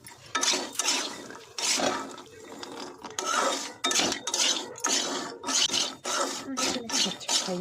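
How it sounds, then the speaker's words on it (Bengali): Raw salted peanuts being fried in oil in a pan, with repeated loud bursts of metal scraping and rattling as they are stirred, separated by brief quieter pauses. "বাদাম ভাজিয়ে দেখেছি বালি দিয়ে, আমি ভাজছি তেল দিয়ে।"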